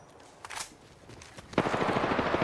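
Rapid automatic gunfire in the Apex Legends video game comes as a brief burst and then a sustained rattling stream of shots, loud and close, with no talking.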